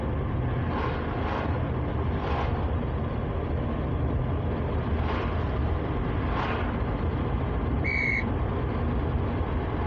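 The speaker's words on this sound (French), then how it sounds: "Le petit coup de sifflet, c'est quand on dépasse la vitesse limite." A short, high electronic whistle from a GPS navigation app chirps once as a speed-limit warning, over the steady hum of a car driving along the road.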